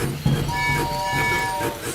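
A cartoon steam train driven by Miss Rabbit in Peppa Pig gives a sustained, bright toot over a rumbling, chugging background for about two seconds.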